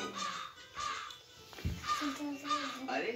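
A crow caws in a fable about a fox and a crow, several harsh calls spaced through the moment amid other voice-like sounds, fairly close and clear.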